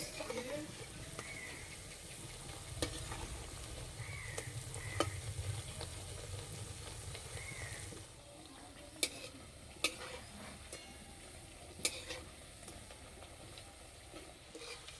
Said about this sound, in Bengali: এক পিঠ ভাজা হয়ে গেছে, উল্টিয়ে দেব।